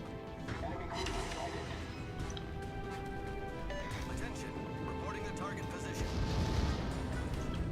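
Secondary guns of the Bismarck fire in World of Warships amid a dense naval battle, with a steady wash of booming artillery and crackling impacts, with talk over the noise.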